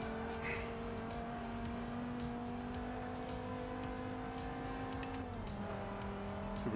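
A race car engine at full throttle in Forza Motorsport 7 holds a steady, sustained drone, then dips briefly as the car backs off before climbing again near the end.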